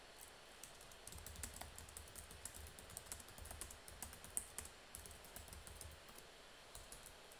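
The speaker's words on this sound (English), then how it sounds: "I would type some text here" Quiet keyboard typing in bursts of rapid, light key clicks with brief pauses, close and faint, no voices.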